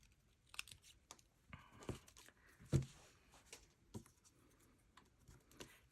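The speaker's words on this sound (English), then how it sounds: "And I'm going to cut out one of the teddy bears." Paper teddy bear ornament shape being cut out with scissors for a Christmas craft, giving quiet, scattered snips and light paper rustles at close range, with one sharper crunch partway through and no talking.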